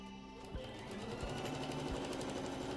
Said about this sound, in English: I'm going to back stitch at the end of the seam